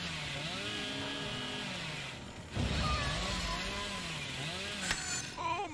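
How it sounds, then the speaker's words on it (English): A chainsaw revs continuously during a long sprint in the video game Dead by Daylight, its whining pitch rising and falling in loud waves, with brief heavier thuds partway through. "That was a long chainsaw sprint."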